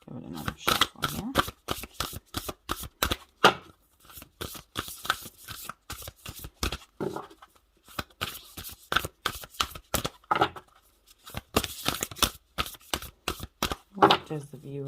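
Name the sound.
shuffling a deck of tarot cards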